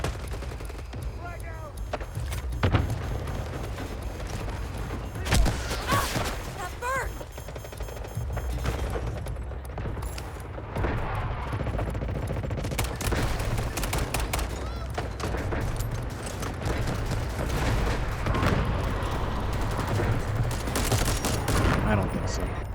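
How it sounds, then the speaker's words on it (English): Assault rifle fire in a video game battle, repeated loud shots and bursts over a rumbling low backdrop, with a voice speaking at times among the gunfire. "This is more of an assault rifle."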